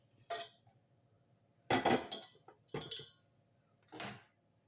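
Four separate metallic clanks and rattles as a frying pan for frying banana stem is set down and adjusted on a stovetop, with quiet pauses between.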